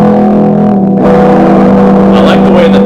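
Neck pickup of a 1980s Yamaha EG112 Stratocaster-style electric guitar, played loud and close with a driven, sustained tone. Notes ring steadily, and a brighter strummed passage comes in near the end.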